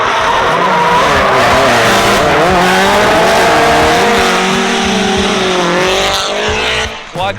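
Two Nissan S15s circle a race track with loud, continuous engine roar that rises and falls through gear changes, tires squealing and skidding throughout, close and dominant over faint voices.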